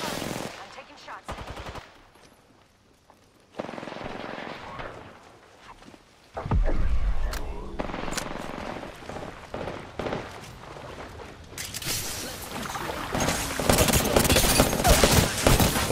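Gunfire in a first-person shooter video game: a few scattered shots early, then loud sustained automatic bursts that grow heavier and nearly continuous toward the end, with brief voices in between.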